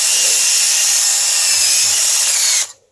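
Rough sandpaper held against a dry wood bowl spinning on a lathe, giving a loud, steady, bright abrasive hiss that runs unbroken for over two seconds before cutting off sharply.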